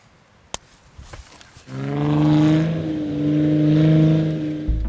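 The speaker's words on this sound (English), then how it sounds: "Is that Andy's Jeep" Faint clicks give way to a Jeep engine rumbling up as it approaches and idles nearby, the motor drone steady and fairly loud, with no talking.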